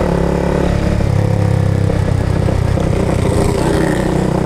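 A 250cc motorcycle engine runs loud and close on a night ride, holding a steady droning roar with slight shifts in pitch and no talk over it.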